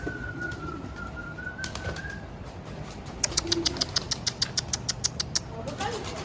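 Mardin pigeons flying outdoors give a quick run of sharp, evenly spaced clapping flutters, likely wingbeats, in the middle of the clip, with a faint engine drone and scattered noise around them.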